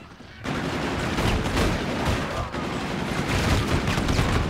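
Dual pistols firing nonstop in the video game Zombies in Spaceland, a dense, loud barrage of rapid shots overlapping into a continuous roar after a brief quiet start.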